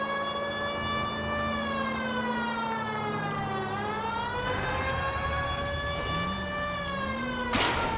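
In the video game L.A. Noire, a police-style siren wails in slow rising and falling sweeps over a low rumble, ending with a brief burst of noise.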